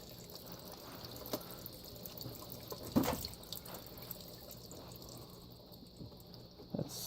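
A small indoor fountain in a laundry room trickles gently as its pump sends water down the back, a faint, steady watery babble with a few soft splashes and drips.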